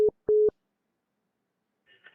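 Busy-signal tone after a phone call hangs up: two short steady beeps, clear and close, followed by silence and then a faint murmur near the end.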